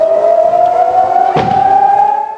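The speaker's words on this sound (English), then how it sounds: "These warning sirens were sending women and children for taking shelters in northern Israel" Warning sirens sounding across northern Israel, a loud sustained wail holding steady pitch with a slow rise, continuous throughout with a brief broadband burst midway.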